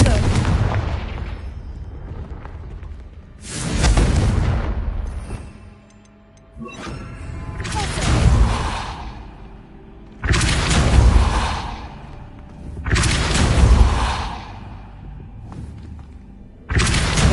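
Confringo fire-spell blasts in Hogwarts Legacy, a series of booming explosions with whooshing swells and rumbling tails, recurring every few seconds, loud and near.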